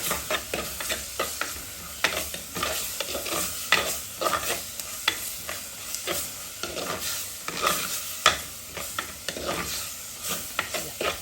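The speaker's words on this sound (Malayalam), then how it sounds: "ഒരു കാൽ ടേബിൾ സ്പൂൺ മഞ്ഞൾപ്പൊടി ഇട്ടിട്ടുണ്ട് കേട്ടോ ഇനി അത് നന്നായിട്ടൊന്ന് വഴറ്റിയെടുക്കാം" Chicken pieces are sautéed with turmeric powder in a pan for a Kerala-style pepper chicken curry. A spoon scrapes and stirs in a steady rhythm over a constant close sizzle, with no talking.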